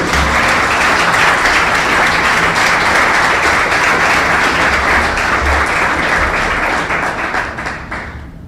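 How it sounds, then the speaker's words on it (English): Large ceremony audience applauds Steve at a dedication event, dense loud clapping sustained for several seconds before gradually tapering off at the end. "This is where you applaud for Steve again."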